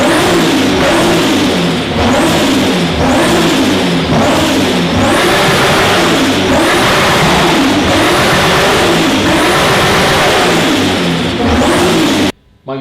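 An RB-powered S14.5 drift car making about 500 horsepower at the wheels revs hard through its exhaust system. Loud, close engine rises and falls repeat in a steady rhythm for about twelve seconds, then cut off abruptly.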